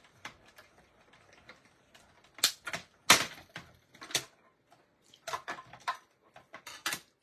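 Plaid fabric fed through an electronic cutting machine, a close, quiet run of rapid mechanical clicks and ticks in irregular bursts with short pauses between them.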